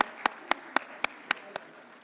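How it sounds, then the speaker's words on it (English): Slow, evenly spaced claps from a few people greet a guest at a jubilee ceremony, about seven sharp hits in steady rhythm that trail off and grow softer toward the end. "Round of applause to welcome A.N."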